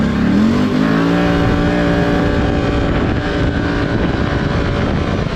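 A Can-Am off-road vehicle roars loud and close in four-wheel drive, its engine pulling hard with a rising whine at first, then holding a steady heavy drone amid wind buffeting.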